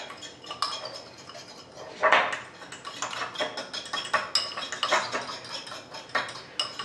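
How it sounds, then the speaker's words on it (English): A fork clinks and scrapes against a bowl while mixing chili powder into taco meat, giving repeated light metallic taps and scrapes at close range with no voices. "Take your fork. Mix all this together."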